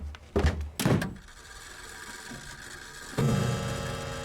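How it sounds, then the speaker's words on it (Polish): A cellar door opens in the horror game The Cat Lady, with a few sharp knocks and thuds followed by a dull creaking drag, then a final heavier clunk, close and fairly quiet. "Okej, drzwi do piwnicy."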